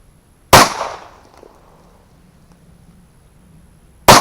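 Two sharp 9mm handgun shots crack loudly at an outdoor shooting range, the first ringing off in a short echo, the second coming about three and a half seconds later.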